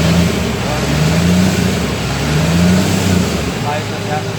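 A CAT 966G wheel loader's 3176 diesel engine runs loud and close after repair of misfiring and low power, holding a steady rumble with a couple of brief rises in revs, while people talk over it.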